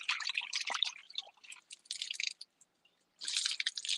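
Washing something with collected rainwater gives bursts of splashing and dripping water, close and fairly quiet, with short gaps between the wet swishes.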